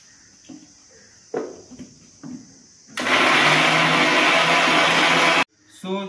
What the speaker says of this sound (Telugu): మిక్సీ